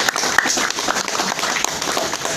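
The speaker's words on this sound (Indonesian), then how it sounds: "Maka berikan tepuk tangan yang meriah kepada yang mengundang Bapak Ibu." An audience gives lively applause at an Indonesian business seminar, with a dense, continuous wash of many hands clapping at moderate loudness and no talk over it.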